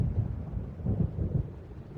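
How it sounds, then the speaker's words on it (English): Thunder of an approaching storm in Alan Wake Remastered, a low rumbling roll with a few heavier swells, moderately loud and continuous over a brief stretch. "It seems there's a storm coming."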